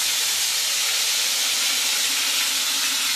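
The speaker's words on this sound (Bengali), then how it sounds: "এটাকে আমি সাদা তেলে হালকা করে ভেজে তুলে রাখবো" Fish pieces rubbed with salt and turmeric fry in white cooking oil with a loud, continuous hissing sizzle. The sound stays dense and steady from start to finish, close to the pan, with no voices.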